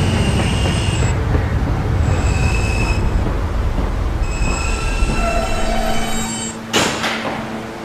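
An R subway train running at night, wheels rumbling loudly with repeated high metallic squeals rising and fading, a sharp screech near the end, no talking.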